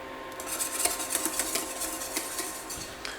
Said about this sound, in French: On va continuer de mélanger.